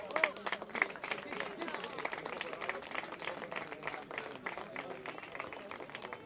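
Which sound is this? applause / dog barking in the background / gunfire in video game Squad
applause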